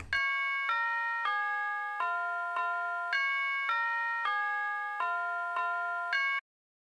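A bright, bell-like tone in an FL Studio beat repeats in a steady rhythmic pattern, each strike ringing with clear harmonics, then stops cleanly.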